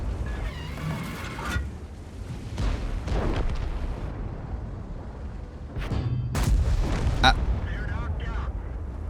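Tank cannon shots from the 116 F3 in a tank video game, a few sharp booming blasts standing out against steady engine rumble, with a person talking throughout.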